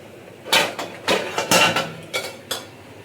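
A lid goes onto a metal cooking pot of simmering vegetables, giving several close clanks and rattles of metal on metal spread over a few seconds, with no speech.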